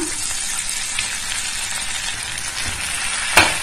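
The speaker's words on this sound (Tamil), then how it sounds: "இப்போ வந்து நம்ம தட்டி வச்ச வெந்தயத்தை போட்டு வதக்கலாம்" Crushed fenugreek seeds sauté in a hot pan, a steady close sizzle that stays even throughout, with a brief clatter near the end as the pan is stirred.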